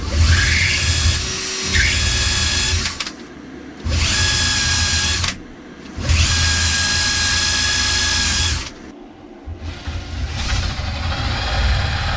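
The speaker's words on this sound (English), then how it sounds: "I think I found is this burnishing tool. This might do it." A burnishing tool driven by a power drill countersinks a hole in a solar-harvesting setup for the road, whirring loudly in several bursts separated by short pauses, the motor revving up and winding down each time.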